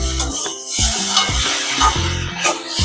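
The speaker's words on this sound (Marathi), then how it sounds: "आता त्याला झाकण काढून असं जरासं कढईमध्ये पसरून थोडा वेळ मंद आचेवरती" Okra (bhindi) being stirred and spread with a spatula in a kadhai over low heat, close scraping strokes in an uneven rhythm over a soft sizzle, with music playing underneath.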